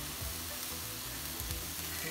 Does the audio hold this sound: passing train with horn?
no